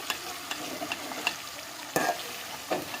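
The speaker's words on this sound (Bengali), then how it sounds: "নাড়াচাড়া করে পেঁয়াজটা একটু কষিয়ে নিব" Meat and chopped onion with bay leaf, cinnamon and cardamom stirred and sautéed in oil in a pan, giving a steady close sizzle broken by a few scraping stirs of the spoon.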